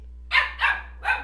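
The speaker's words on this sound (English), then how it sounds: "my dog is barking at me" A dog barks three times in quick succession, close and fairly loud, over a steady low hum with no talking.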